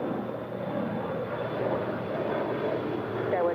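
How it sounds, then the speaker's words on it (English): A China Airlines Airbus A350-900 arriving from Taipei touches down on the north side runway at LAX, a steady distant jet engine roar that swells slightly at the end, heard from afar with no talk. "This is Dynasty Flight 6 China Airlines coming in from Taipei, an A350-900. Now touching down"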